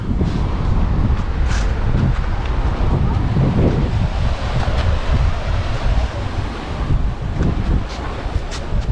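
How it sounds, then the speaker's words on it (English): Ocean surf at Hanauma Bay, a beach cove in Hawaii, rumbling steadily with heavy wind buffeting the microphone and no voices. "this is Hanauma Beach Cove, aka Eternity Beach"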